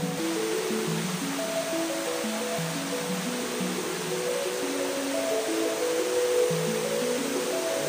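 Water pouring steadily at Kandungos Falls, a broad continuous rush of falling water filling the scene at close range with no voices over it.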